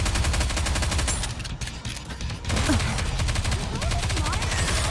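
Rapid, sustained automatic gunfire rattles on in Goddess of Victory: Nikke, a dense stream of evenly spaced shots with a brief dip in the middle before the volley resumes at full loudness.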